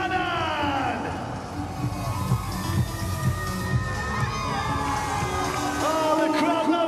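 A crowd cheers and whoops steadily for Australian athlete Dexter Buchanan at a HYROX elite race in Brisbane, a loud, sustained roar with shouts rising and falling, and a voice speaking over it.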